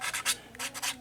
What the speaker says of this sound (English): I'm just sanding over the last bits of the putty joints.